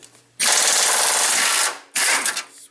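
An impact wrench on a straight extension works a bolt loose on a Subaru during a head gasket teardown, giving a loud, close rattling burst of about a second and a half and then a shorter second burst.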